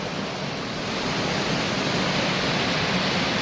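Steady, full rush of falling water from a waterfall in the V-shaped Bear Creek slot in the Arkansas Ozarks, with a log jammed in the chute, heard close and constant with no voices.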